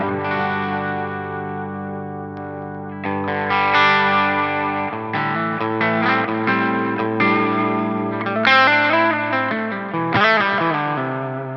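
Electric guitar played through a Line 6 Metallurgy archetype clean amp model, ringing sustained chords and arpeggiated notes with a shimmering, chorus-like sheen and light echo, steady and close with no talking.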